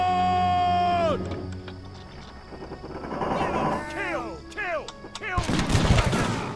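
Musket gunfire rings out in a video game set during the American Revolutionary War battles of Lexington and Concord, with sharp reports and clattering volleys among shouting and game sounds, growing denser toward the end.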